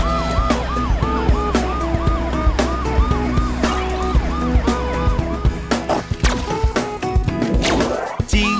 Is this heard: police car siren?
yes